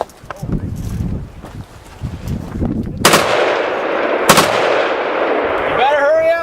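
A 20-round magazine fired at Tannerite targets outdoors, with sharp loud gunshot cracks and booming blasts over wind rumble, while people talk and shout in the background.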